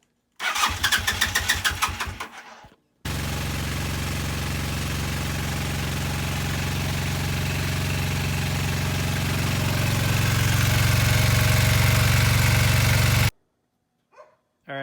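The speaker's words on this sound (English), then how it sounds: "the bike started up just fine, but it sounded kind of funny" Honda CB400 TII motorcycle engine cranking with choke out, catching and settling into a loud, steady idle that runs for about ten seconds, slightly rough and uneven, then cuts off.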